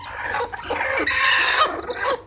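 Three hens and their newly hatched chicks in a village: clucking nearby in short, uneven bursts, with higher peeping calls mixed in, fairly loud and close, no talking.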